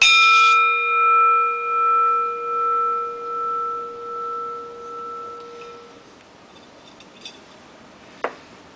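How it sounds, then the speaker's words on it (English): A crystal singing bowl rings with steady, pure sustained tones that pulse gently in slow waves, then fade out around six seconds, leaving quiet room noise and a couple of small taps. "You can already hear the response from the crystal in the vibration."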